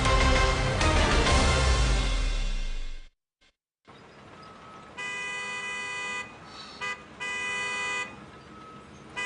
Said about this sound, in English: This honking is doing your head in.